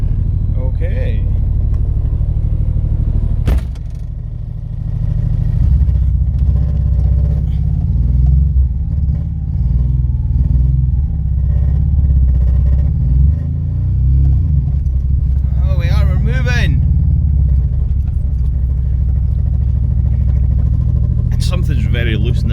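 A 3-cylinder car runs with a deep, steady low rumble close by, something loose in the back adding occasional knocks and rattles over the engine drone.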